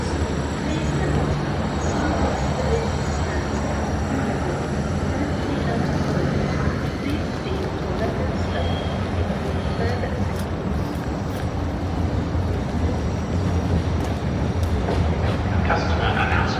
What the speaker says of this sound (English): This train has 8 carriages.